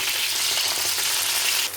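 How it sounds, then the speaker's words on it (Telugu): Eggplant pieces fry in hot oil for stuffed brinjal with garlic chili masala, giving a steady, loud, close sizzle that runs unbroken throughout with no talking. "వంకాయలు ఇవన్నీ మంచిగా ఫ్రై చేసుకోవాలా"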